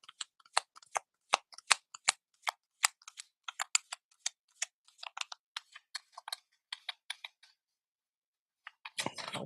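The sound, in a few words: shuffling tarot cards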